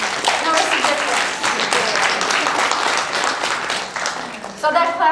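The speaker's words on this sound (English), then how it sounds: "keep clapping, keep clapping" A roomful of therapists at a talk keeps clapping their hands in a sustained, brisk patter that rises and dips, with a voice speaking over it near the end.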